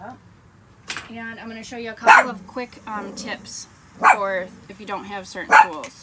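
Someone talks at a campsite while dogs bark in the background, a few sharp barks breaking through her speech.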